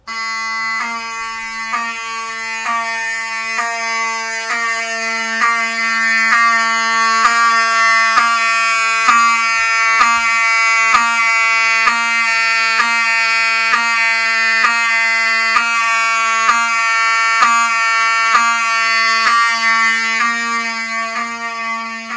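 A fire alarm rings during a test of a Notifier AFP-200 panel, a loud, steady electronic horn repeating in even rapid pulses for over twenty seconds with no talk over it.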